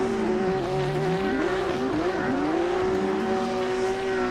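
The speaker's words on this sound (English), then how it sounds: "we can hear those engine revving" Race car engines rev and scream during an ESDA Long Beach electric racing event, a continuous loud engine whine with rising and falling pitch sweeps as cars pass, alongside faint tire noise and no talking.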